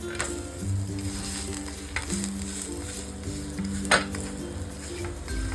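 Red amaranth leaf thalipeeth flatbread sizzles steadily in a hot pan while a spoon presses it down, with occasional metallic clinks and scrapes of the spoon against the pan over the continuous frying hiss.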